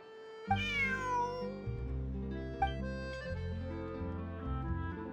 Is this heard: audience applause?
no